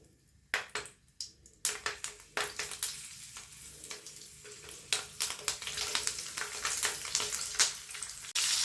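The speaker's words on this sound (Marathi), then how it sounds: "एक एक असं फ्राय करायला ठेवूया" Stuffed chillies dropping one at a time into hot sunflower oil, crackling and sizzling in repeated sharp bursts that settle into a steady close fry.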